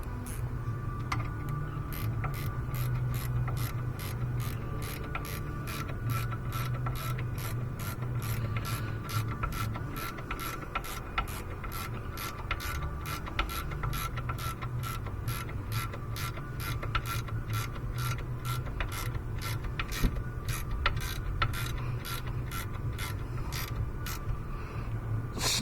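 Ratchet clicks in a fast, steady, even rhythm while tightening a rear brake caliper bolt on a Land Rover Discovery Sport, close and fairly quiet over a low background hum.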